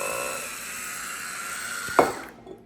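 An Oster electric wine opener whirs steadily as its motor drives the screw into a wine bottle cork, ending with a short pop-like release as the cork comes free and the motor stops.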